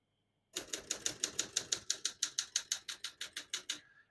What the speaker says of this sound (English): I'm going to keep that on single for now and finish typing.